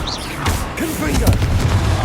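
A Confringo fire spell explodes in Hogwarts Legacy, loud booming blasts and crackling bursts from battle combat, with a voice shouting spell names over the effects.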